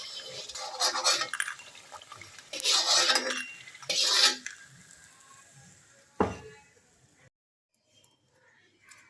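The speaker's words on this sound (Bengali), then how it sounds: "আমি বড়িগুলোকে গ্যাস থেকে তুলে নিচ্ছি।" Fried lentil dumplings are lifted out of a pan of hot oil with a metal utensil, giving bursts of scraping and clinking against the pan, then a single sharp knock followed by quiet.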